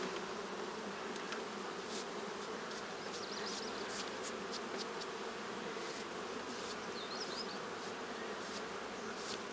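A dense, steady hum of many honey bees buzzing close by as they are shaken off a hive frame, continuous throughout with occasional individual bees passing nearer.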